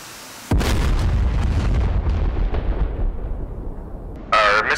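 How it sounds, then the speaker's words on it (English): A missile explodes near its target in the DCS F-16 flight simulator: one sudden heavy boom that rolls off into a fading rumble, followed by a brief sharper sound at the end. "Missile was a little bit off target"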